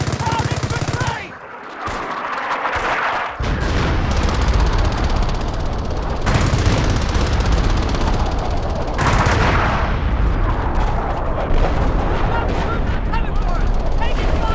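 Sustained machine-gun and rifle fire crackles through a World War II battle in the strategy game Company of Heroes, loud and dense with rattling bursts, a brief lull, and shouted soldier voices mixed in.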